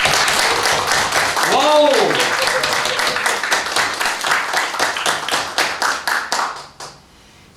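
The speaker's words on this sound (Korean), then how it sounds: "우리 박수 한번 쳐드릴까요?" A church congregation at a Sunday worship service claps for its volunteer team, loud and close. Someone lets out a rising exclamation early on. The clapping settles into a rhythmic, in-time beat, then stops abruptly near the end.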